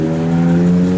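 A 1949 Ford F47 pickup engine runs after a push-button start, a loud, steady low rumble with a strong even hum, heard up close without pauses.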